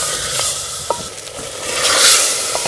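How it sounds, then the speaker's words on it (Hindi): Beef with spices and yogurt being bhuna-fried in a pot, a close, loud hiss of sizzling with a few brief spatula scrapes and knocks. "दही को भी अच्छी तरह से आग से जो है वो हम बीफ के साथ भून लेंगे"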